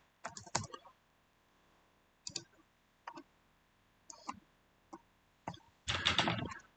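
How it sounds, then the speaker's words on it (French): Someone types python.org on a computer keyboard, in quick close-up bursts of clicking keystrokes separated by short pauses, with no talking. "on va se rendre sur le site, sur Google, on va taper python.org"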